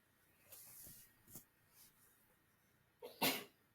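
A person sneezes indoors, a sharp breathy burst near the end following a few quieter sniffs and breaths, faint overall and with no talk.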